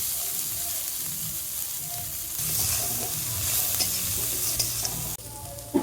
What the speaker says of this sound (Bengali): এবার কুচি করে কেটে নেওয়া কলই শাকগুলো দিয়ে দিচ্ছি